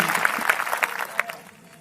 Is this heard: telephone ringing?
no